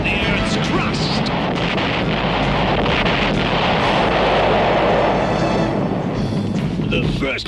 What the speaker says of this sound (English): It's a series of explosions designed to crack the Earth's crust.